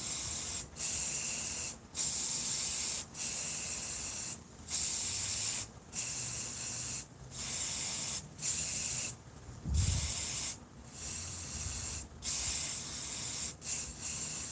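Spray paint hisses out in repeated bursts of about a second each, separated by short pauses, close and steady, while colors are applied for hydro dipping fishing lures.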